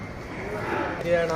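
A Hallikar bull calf moos in a drawn-out, rising call, close by, with a low murmur of activity in the background, on a farm in Begur, Bengaluru.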